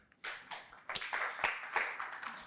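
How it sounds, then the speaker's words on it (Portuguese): A small audience claps at a tech talk: several quick bursts of hand claps, thin and scattered rather than a full ovation, fairly faint and heard without talk. "Palmas para o Kaikaku."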